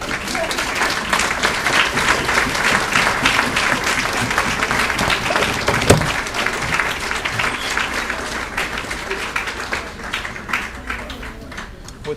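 A large crowd gives honorees a sustained round of applause at an awards ceremony, dense steady clapping filling the whole stretch at even loudness and easing slightly near the end.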